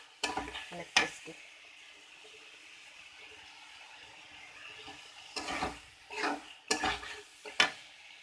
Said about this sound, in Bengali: আজ আমি রান্না করছি শুটকি দিয়ে আলু দিয়ে কষানো তরকারি।